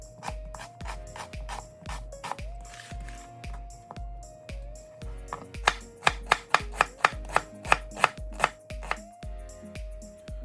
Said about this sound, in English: So now we'll dice our onion.